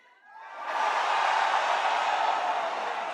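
A large live crowd cheers at the Masters esports event in London, a roar that swells in over the first half second and then holds steady and loud.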